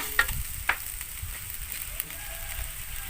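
Fish balls stir-fried with curry paste and kaffir lime leaves in a pan, a steady soft sizzle with occasional light scrapes of a utensil.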